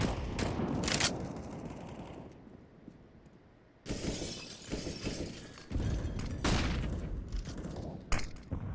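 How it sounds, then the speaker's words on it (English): A grenade blast and bursts of gunfire in a Halo esports match, heard as sharp crashing blasts and rapid shots that cut in, drop away briefly and then return loudly. "Nade comes in."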